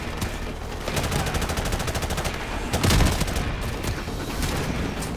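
Rapid, sustained machine gun fire rattles in Call of Duty: Modern Warfare Remastered, an even stream of shots with a heavier boom near the middle, loud and continuous with no voices.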